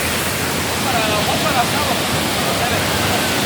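Kravica waterfall in Bosnia and Herzegovina roars as foaming water pours down the hillside, a loud, steady broadband rush that fills the whole scene without a break.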